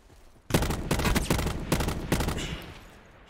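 Several close, loud bursts of automatic gunfire in the Call of Duty Blackout battle royale game, rattling out in quick groups separated by short pauses, with no talk.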